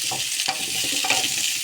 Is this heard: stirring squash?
yes